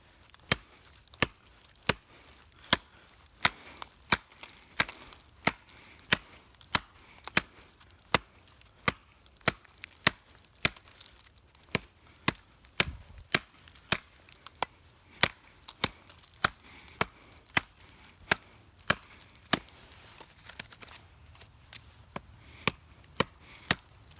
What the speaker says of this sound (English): We'll go try and chop into a dead tree.